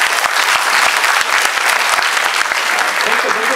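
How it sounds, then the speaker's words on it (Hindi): Loud, steady applause from an audience at an award ceremony honouring participants, with dense clapping filling the whole stretch and sharp individual claps standing out close by. "तालियां"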